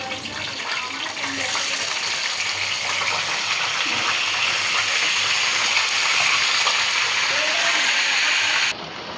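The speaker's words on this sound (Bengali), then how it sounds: "তেল গরম হওয়ার সাথে সাথে আমরা মুরগির রোস্টগুলো আমরা ভেজে নেব" Chicken roast pieces fry in hot oil with a loud, rushing, steady sizzle that swells after the first second, holds evenly, and cuts off abruptly just before the end.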